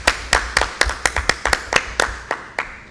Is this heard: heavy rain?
no